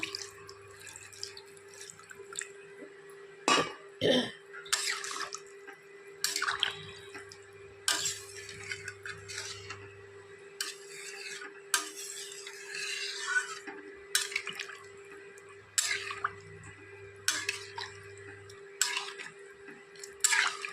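More liquid added to a potato and cauliflower curry with lentil dumplings in a pan: intermittent splashes and stirring scrapes recurring for about twenty seconds over a low steady hum, with no speech.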